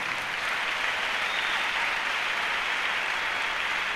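A church congregation applauds the Lord, a dense steady wash of clapping that fills the room and holds without a break, with no voices over it.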